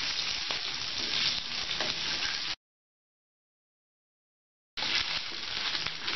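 Mutton chops frying in a pan over medium flame, a steady close sizzle that cuts off abruptly into silence for about two seconds, then resumes just as loud.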